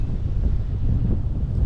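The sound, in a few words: strong wind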